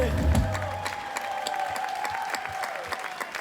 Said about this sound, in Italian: Voglio sentire un grande applauso per la nostra voce Piazza Manzoni